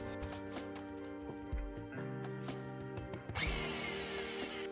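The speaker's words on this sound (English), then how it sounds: "Because we were using such a small sander, it would only sand a few boards at a time" A small belt sander works over old floorboards, a steady motor whine with harmonic tones that shifts pitch as load changes, plus short scraping bursts and a brighter grinding surge near the end.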